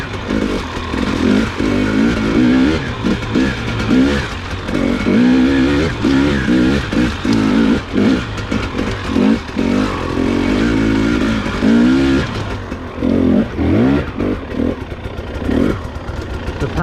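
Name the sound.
Husqvarna TX300i dirt bike riding on trails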